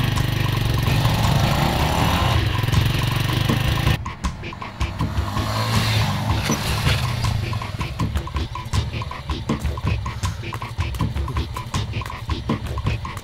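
A vehicle engine runs loudly, then after an abrupt change settles into a choppy, uneven chugging rhythm as it moves off, with rattling mechanical clatter throughout.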